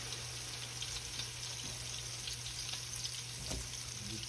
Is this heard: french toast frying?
yes